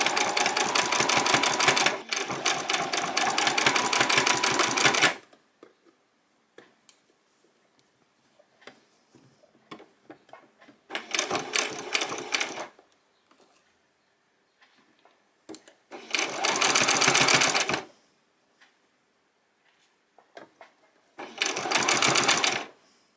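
A sewing machine stitches gathered dress fabric in rapid mechanical bursts, running for several seconds, pausing, then starting again in shorter runs with near silence between.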